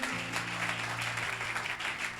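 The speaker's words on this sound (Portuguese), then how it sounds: "exalte o Senhor com as palmas bem fortes" A church congregation claps loudly in praise during a worship service. The applause is a dense, sustained wash over low sustained instrumental tones underneath.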